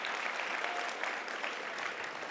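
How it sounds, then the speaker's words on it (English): Audience clapping at an awards ceremony, a dense steady burst of applause from a crowd that lasts a couple of seconds with no gaps. "let's give him a clap"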